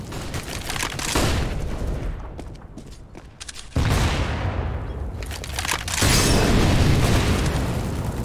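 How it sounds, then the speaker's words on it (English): In the video game CS:GO, a loud flashbang grenade bursts amid sustained gunfire and explosions. The din is dense, continuous and close, with sharp swells and no clear gaps. "Flashbang."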